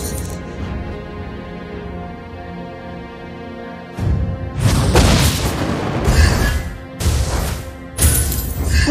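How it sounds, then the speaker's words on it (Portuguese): Explosions in a mobile video game burst out as heavy booming crashes, three or four loud blasts with crackling debris following a quieter stretch of droning game music and effects. "Você não pode escapar das minhas explosões."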